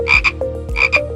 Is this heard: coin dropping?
no